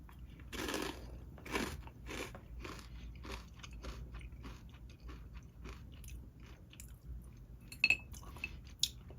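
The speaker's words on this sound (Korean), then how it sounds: "땅콩도 딱딱하지 않고 바사삭" Crisp, close-up crunches as a squid-and-peanut snack is bitten and chewed, a few sharp bites followed by softer steady chewing.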